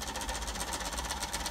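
A homemade Bedini motor spins up with brushes riding like a slip ring, giving a steady, close mechanical whir and buzzing hum with a fine rhythmic flutter, loud and continuous throughout.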